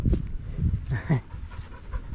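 A dog on a countryside walk near fields, forests and wind turbines pants in quick, rhythmic breaths close by, with faint outdoor background and a voice talking underneath.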